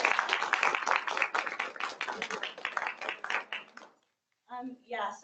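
Applause from an education event audience for a student named Amelia, a dense run of clapping that fills the first four seconds, then cuts to silence before a speaking voice begins.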